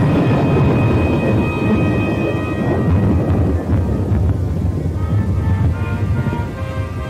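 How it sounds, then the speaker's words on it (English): Strong wind roars and rushes steadily through a storm, with low rumbling that suggests thunder, a dense continuous wash of noise heard without talk. "Storm."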